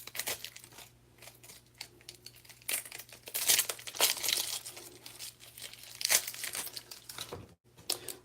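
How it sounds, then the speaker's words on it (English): An onion being peeled gives close, irregular dry crinkling and tearing of its papery skin, loud bursts coming and going over about eight seconds. "I'm peeling an onion now"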